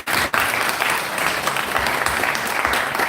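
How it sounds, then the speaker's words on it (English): Audience at a religious advent day celebration and concert breaks into loud, dense applause, a sustained wash of many hands clapping with a brief dip near the start, heard alone without talk. "Let us give him a big round of applause."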